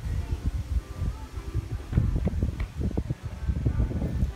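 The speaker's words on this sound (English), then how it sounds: "Very windy though." Gusty wind buffets the microphone outdoors at a wedding in low rumbling bursts, rising and falling in irregular waves throughout.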